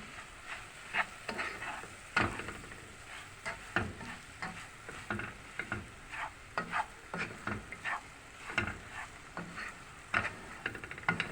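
Steady scraping and stirring of semolina roasting in a pot for helva, with a soft sizzle beneath, the spoon strokes coming in an irregular rhythm, close and quiet.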